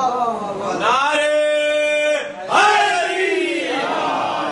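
A crowd at a Shia religious gathering answers a preacher's call with a loud, sustained collective chant, voices rising together in a held harmonic tone before a brief dip and a second swell.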